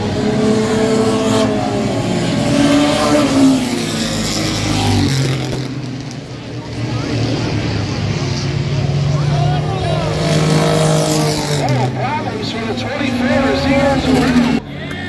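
Renegades race cars roar around the track at Sandusky Speedway, engines revving loud and close with passing surges, while an announcer talks over them.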